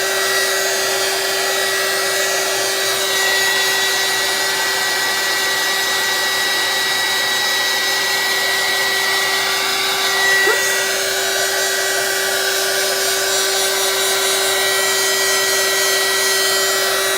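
A heat tool blows hot air over poured resin during a resin swipe cell technique, a steady, close whooshing fan hiss that runs unbroken throughout with no talk.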